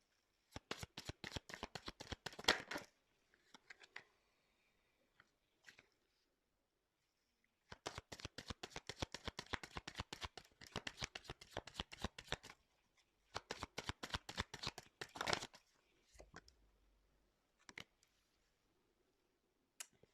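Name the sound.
tarot cards being shuffled for a reading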